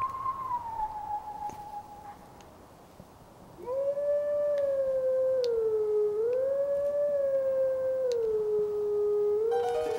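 A wolf howl sounded at a Howling Stone in Zelda: Twilight Princess: a sustained, wavering tonal melody that starts softly, then swells into a louder, steady howl rising and falling in pitch, heard alone.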